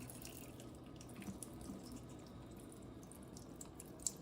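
Water poured into the vent louvers of an electric Corvette's battery box splashes and trickles steadily onto a hard surface, a continuous pouring sound with faint drips, no voices.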